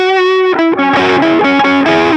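Distorted electric guitar on the neck pickup plays the opening of the solo in a song, loud sustained singing notes that glide and shift pitch, with no talking.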